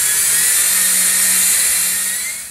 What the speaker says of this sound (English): mount it into a power drill, and you're going to drill a hole here for the jack nut